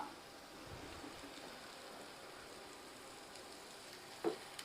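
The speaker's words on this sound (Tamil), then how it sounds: "நான் லோ ஹீட்டில் வச்சு தான் வதக்கிட்டே இருக்கேன்" Masala sautéing on low heat in a pan for a quick chicken dish, a soft, steady sizzle heard close up and quiet, with a brief clink of a utensil near the end.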